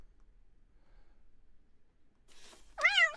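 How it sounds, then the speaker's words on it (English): A cat meows once, clear and close, played through a podcast app, after near silence and a brief soft breathy rustle. "How can I say no to cats meowing?"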